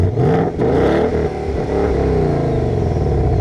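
A 2024 Ford Mustang GT V8 engine revs hard in sports mode with active exhaust, a deep, throaty roar, loud and close, rising and surging over a few seconds with no one speaking.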